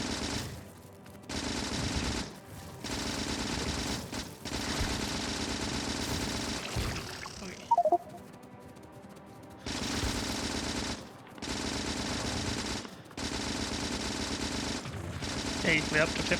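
Automated turret gunfire in the factory-building game Factorio rattles in repeated sustained bursts separated by short pauses, with a brief clatter of other effects in the middle.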